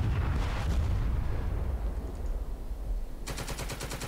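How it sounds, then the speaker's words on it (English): Anti-aircraft guns in a wartime strategy game fire in loud, sustained rattling volleys, with a dense roar that ends in a rapid pulsing burst of shots. "just the AA gun. Let's fire at those."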